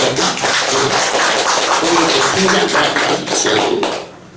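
Audience clapping fills the space in a steady, dense wash of many hands, holding at an even loudness before tailing off in the last moment.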